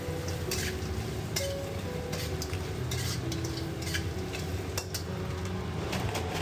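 Lamb chops being tossed in a pan with toasted white sesame seeds and barbecue dipping spices, a steady close sizzle with scraping and the odd clink of utensil on metal, and a faint tonal hum running underneath.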